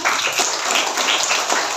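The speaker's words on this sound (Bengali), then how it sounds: "সুন্দর, একটা হাততালি দেই আমরা।" Schoolchildren in a classroom clapping their hands together in steady, dense applause, a close burst of many small claps lasting under two seconds.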